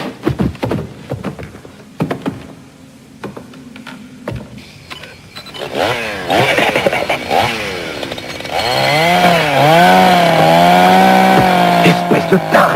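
A chainsaw sputters with scattered clanks, then revs up and runs loudly with rising and falling engine pitch, growing into a sustained close whine toward the end.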